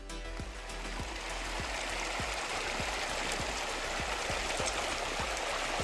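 Creek water rushes steadily through a diversion pipe outdoors, a dense continuous wash with faint regular knocking beneath it, no voices.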